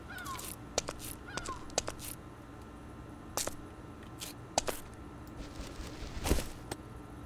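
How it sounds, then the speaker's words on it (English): Crows caw several times at irregular intervals over a steady outdoor ambience in Minecraft, some calls sharper and nearer than others. "Even the birds sound like they're sick or something."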